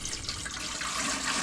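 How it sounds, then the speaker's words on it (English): Water pours steadily into the upper chamber of a Berkey water filter during a cartridge repair, a continuous splashing, trickling rush heard close and alone. "if you want to pour that water in, we'll have a look and see what happens there."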